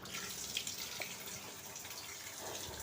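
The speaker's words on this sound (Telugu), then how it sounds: "ఇప్పుడైతే అదంతా కడిగేసి వడల కోసం అయితే నానబెట్టుకుంటున్నా" Tap water running into a sink while soaked black gram is rinsed for vadas, a steady, soft splashing stream with small drips, close and alone.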